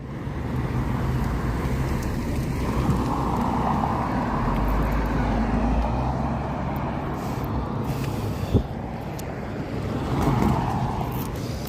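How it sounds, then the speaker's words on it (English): Cars pass along a street in a steady, rumbling wash of road noise, broad and continuous, with one sharp brief click partway through and a slight swell near the end. "We'll let these cars clear out"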